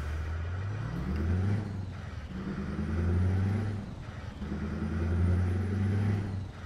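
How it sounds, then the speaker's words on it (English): A heavy truck engine in the Euro Truck Simulator 2 game drones and rises in pitch through repeated gear pulls, with brief dips between them, steady and close without talk. "Truck sounds amazing."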